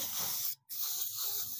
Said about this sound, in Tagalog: compressor to na spray